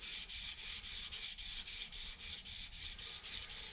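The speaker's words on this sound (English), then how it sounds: "you're going to hone all this edge off of there and you're going to make this thing extremely sharp" A steel putty knife or scraper blade being honed to a razor edge, giving a steady series of rhythmic, close, hissy rubbing strokes, about four per second, with no talking.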